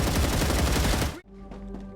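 Enemy gunfire in the game Star Rupture, a dense rattle of rapid shots for about a second, then it cuts off abruptly, leaving faint tonal game sounds.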